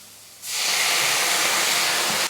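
Wine poured into a hot pan after cooking duck magret bursts into a loud, steady hissing sizzle, starting abruptly and holding evenly for about two seconds before cutting off.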